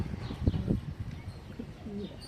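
Soft, low pigeon coos, a couple of close calls followed by a quieter murmur, with faint background noise.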